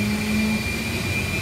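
Bell 429 helicopter turbine engine lighting during startup, a steady roaring whine with a sustained hum and a high tone, loud and close throughout the short clip.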